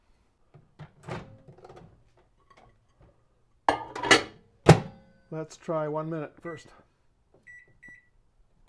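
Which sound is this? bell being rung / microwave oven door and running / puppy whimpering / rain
microwave oven door and running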